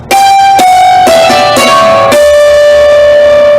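Bright struck hammered dulcimer strings ring out in a short descending run of single notes down the treble bridge, each hit sharply and left to sustain, ending on a held tone.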